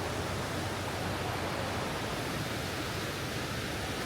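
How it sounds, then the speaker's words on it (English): A waterfall, the second tallest in Colorado, roars as a steady, dense rush of falling water, loud and unbroken throughout with no other sounds on top. "I think it is the second tallest waterfall in Colorado"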